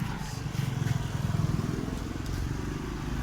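A Beat motorcycle with an electrical short briefly catches and runs with a rough, close putter, then sags and dies within a couple of seconds, leaving a low background hum.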